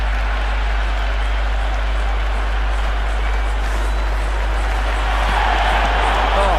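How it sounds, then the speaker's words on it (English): Dense, steady crowd roar fills a Sri Lanka versus England one-day international cricket stadium, swelling louder near the end, with a commentator talking over it throughout. "The crowd is electric right now."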